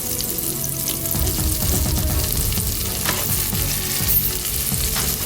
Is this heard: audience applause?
no